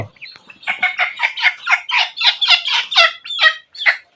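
Desi chickens give a quick run of rhythmic, evenly spaced clucks close by, loud and clear with no talk over them.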